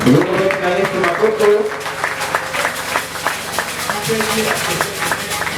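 A church congregation breaks into sustained applause during a worship service, a broad wash of clapping from many hands with voices and shouts mixed in throughout.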